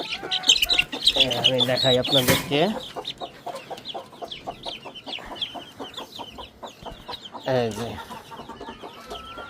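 A crowd of 10-day-old Aseel chicks peep and cluck steadily and close by in rapid overlapping chirps, while someone speaks briefly over them.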